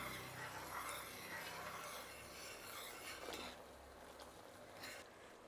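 Sugar syrup is stirred in a pan on the stove while it thickens toward a one-string consistency, giving a steady scraping, rasping rub of a spoon against the pan, moderately loud and continuous, with no talk.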